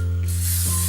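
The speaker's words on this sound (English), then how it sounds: "use a non-stick skillet to cook them, and so use cooking spray" Cooking spray hisses from a can onto a non-stick skillet in one short, steady burst, close and clear, with no talking over it.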